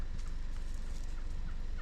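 Gould's wild turkeys gobbling in Madera Canyon, rapid rattling gobbles from several birds at moderate distance, outdoors with no talking.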